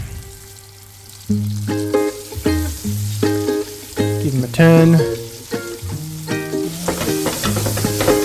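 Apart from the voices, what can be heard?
meatballs sizzling in olive oil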